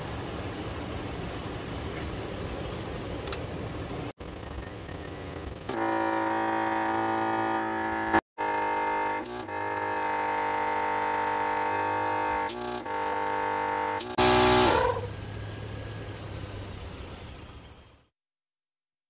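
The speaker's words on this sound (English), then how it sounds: "Now we're using Maxi Trac with the multi-inflator off-road wheels at the same time." Maxi Trac multi-inflator pumping air into four off-road 4x4 tires at once, a loud steady mechanical drone with hissing, pauses and restarts, a brief sharp burst near the end before it cuts off.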